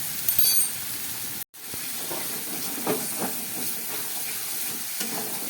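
Spice paste of ground cumin and turmeric paste sizzles and hisses steadily in a pan while being sautéed for a rohu fish curry, with scattered stirring scrapes and a brief cut in the sound.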